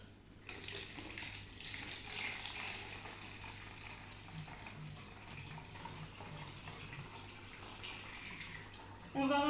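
Water trickles steadily into a 50-centilitre plastic spray bottle while a homemade natural anti-aphid spray is being prepared, a soft continuous pour over low background hum.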